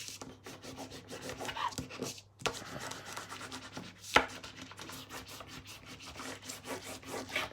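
Stamperia paper is burnished onto a mini album, giving soft, steady rubbing and scraping strokes close up, with one sharper tap midway and no talk.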